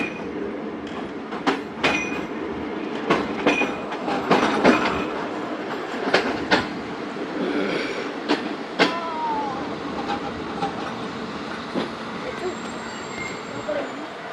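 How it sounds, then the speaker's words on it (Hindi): A shuttle train rumbles and clanks as it pulls away from Sanaba railway station on the Multan to Dera Ghazi Khan line, with scattered metallic squeals and clacks over a steady low drone. "सात बजकर 22 मिनट पर सनाबा रेलवे स्टेशन से गाड़ी रवाना हो रही है।"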